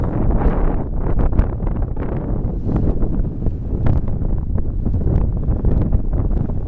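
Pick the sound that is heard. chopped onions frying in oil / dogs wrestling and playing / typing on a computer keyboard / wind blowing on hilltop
wind blowing on hilltop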